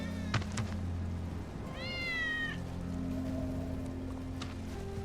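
A single drawn-out meow from Wedge's cat in Final Fantasy VII Remake, clear and fairly close, rising then falling, over a constant low ambient hum with a couple of faint clicks around it.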